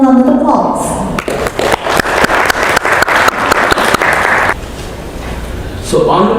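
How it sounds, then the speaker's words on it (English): Audience applause fills a conference hall at the 31st CII Partnership Summit, a loud burst of clapping with distinct sharp claps that runs for several seconds between talk at the start and end. "Please welcome him one round of applause."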